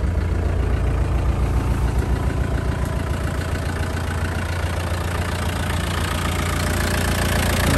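A Land Rover Lightweight fitted with a 200TDi diesel engine, converted from a 1989 Discovery, idles steadily and close by, with a loud, even low-pitched knocking rumble and no talk.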